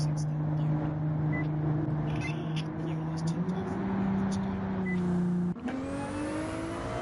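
Ferrari GT3 race car in a racing video game pulling out of the pits, a steady droning engine note held at a limited pace, then a sharp break as it shifts and begins climbing in pitch, close and loud.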